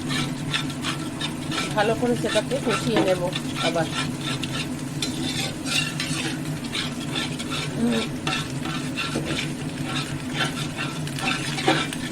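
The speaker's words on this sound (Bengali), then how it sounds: "এবার আমি এতে ফুলকপি আলু ভেজে নেব মশলাটা ভালো করে কষিয়ে নেব" Cauliflower and potatoes fry in oil with spices for a vegetable biryani, a steady loud sizzle with repeated scraping stirs of a spoon against the pan, close up throughout.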